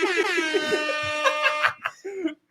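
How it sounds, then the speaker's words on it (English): An air horn sound effect blares in a podcast, a sustained harmonic honk followed by short bursts, with laughter and voices mixed in. "Use the air horn."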